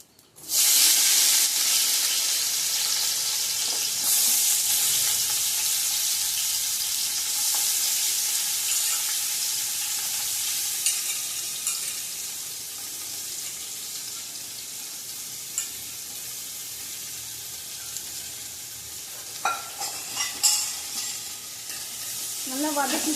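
Onions sautéing in a pan with bay leaves for a Tamil-style Sunday biryani, a steady close sizzle and frying hiss running throughout with occasional stirring scrapes near the end.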